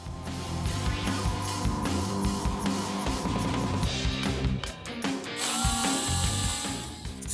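A hand ratchet clicks rapidly and steadily, close up, as the high pressure line is loosened from the power steering pump of a Mercedes-Benz W203, with some metallic clinks of tools.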